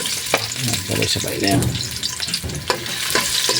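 Ginger and onion sauté in hot cooking oil, the first step of a coconut-milk bottle gourd dish with roast pork jaw. The sizzle stays close and steady, broken by scraping stir strokes, while someone briefly speaks over it.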